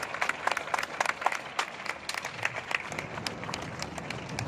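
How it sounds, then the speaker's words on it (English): Crowd applause at a Democratic rally outside Dallas City Hall, a dense patter of many hands clapping continuously for several seconds at moderate volume, with scattered cheers mixed in. "let's give those kids a warm applause again, please"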